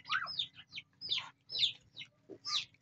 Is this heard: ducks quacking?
yes